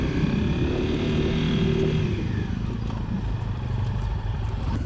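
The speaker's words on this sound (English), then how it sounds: "It's good to finally be back on the bike and rolling here." Honda CRF250L motorcycle rolling along on a hot, dusty trail, its engine a steady close rumble with clattering running throughout, no talking.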